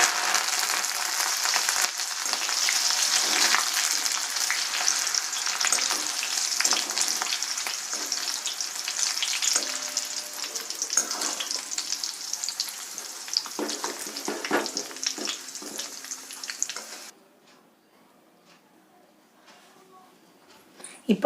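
Peanuts and curry leaves sizzle and crackle steadily in hot oil while frying for Kerala mixture, a loud continuous fry that drops away to near quiet at the end.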